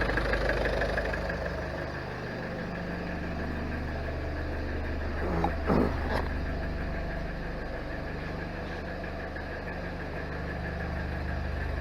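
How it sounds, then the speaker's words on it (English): A 1991 Toyota Land Cruiser Prado engine idles with a steady low rumble and even hum, close by, with a brief clunk partway through and no talk. "You can hear the motor."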